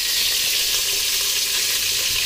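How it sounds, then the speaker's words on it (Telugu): Dibbarotti batter made from rice and urad dal fries in a hot pan, giving a steady, dense sizzle that stays even throughout with no voices. "వేగుతూ ఉంటుంది."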